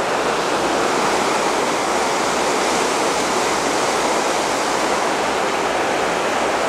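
Strong river current rushes in a loud, dense, unbroken roar of flowing water, steady from start to finish with no voices.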